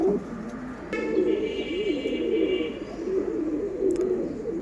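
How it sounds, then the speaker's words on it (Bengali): Pet pigeons coo in soft, rolling throaty phrases close by, a steady murmuring run over quiet background with a faint chirp. "এই যে এই যে কবুতর"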